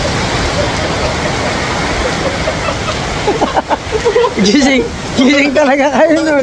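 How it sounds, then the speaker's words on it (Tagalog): Heavy rain pours down suddenly in a broad steady roar at a hidden spring in Dingalan, Aurora, with people talking over it in the second half. "Di nakakala yung ulan, biglang buhos oh."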